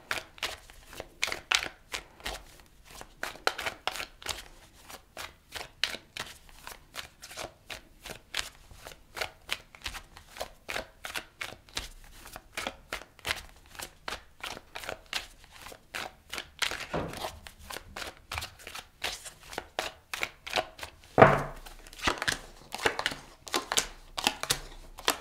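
Tarot cards are shuffled by hand in a rapid, continuous run of crisp riffling and slapping, close and fairly quiet, with a few sharper snaps near the end and no talking.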